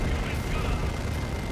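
An Assault Cannon Barrage firing in a Dawn of War II: Retribution battle gives a steady, loud rumbling roar of rapid cannon fire that stays continuous and dense throughout.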